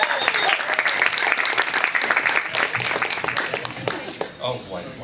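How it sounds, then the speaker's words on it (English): An audience gives a big round of applause, a dense, loud wash of clapping that holds for several seconds with a few voices mixed in before easing slightly. "Let's give him a big round of applause"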